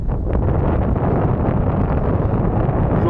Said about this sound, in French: comme toujours au col, il y a du vent